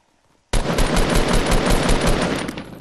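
Rapid automatic gunfire from a video game erupts abruptly after a brief quiet moment, a loud, dense burst of shots continuing steadily for over two seconds before easing slightly at the end.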